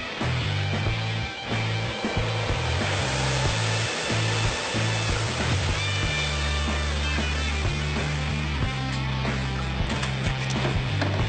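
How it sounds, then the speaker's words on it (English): A magnetic cleaning machine churns metal needles against metal buckles in a steady, dense whir, with a constant low hum and rapid gritty rattling throughout. "it is placed in a special magnetic flutter where many metal needles remove the oxide coating"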